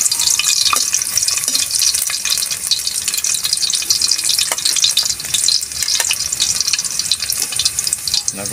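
Garlic sautéing in a hot pan at the start of cooking pata with pancit canton, giving a loud, dense, continuous crackling sizzle close by with scattered sharp pops and no talk.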